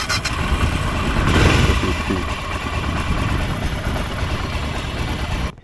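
A warmed-up single-cylinder BMW motorcycle engine idles steadily with a continuous low rumble that swells slightly before cutting off abruptly at the end.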